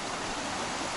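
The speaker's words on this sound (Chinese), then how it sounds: "啊，瀑布底下对" A waterfall at Ginzan Onsen hot springs in Yamagata, Japan roars as a steady, dense rush of falling water that fills the whole moment.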